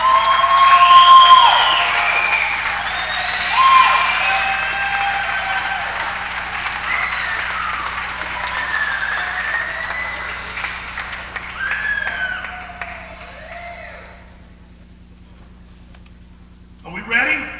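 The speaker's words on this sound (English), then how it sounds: "So please, a nice, thunderous round of applause for Shyla and Cassidy." A crowd at a 2023 awards banquet breaks into loud applause and cheering that swells early, then gradually tapers off into quiet before a brief final burst.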